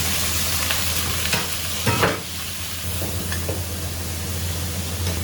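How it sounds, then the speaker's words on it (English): Pork belly stir-fried in a hot wok with oil and scallions, a steady close sizzle with scraping spatula strokes and a few louder clanks around the middle, continuous throughout. "then stir fry the pork belly"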